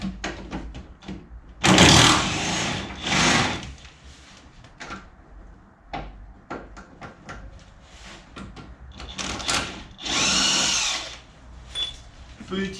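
An impact wrench rattling in short loud bursts while loosening bolts on a BMW 750 iL E32 V12 in a home garage, separated by clanks and handling noises, with a voice speaking at moments.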